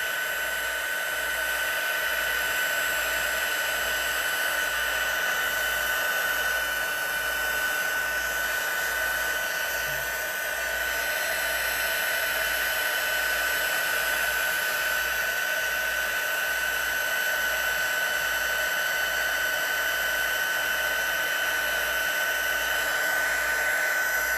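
An embossing heat tool blows hot air to melt embossing powder, giving a loud, steady whine and fan roar with a faint rhythmic pulse, running without a break for about twenty-four seconds and no talk over it.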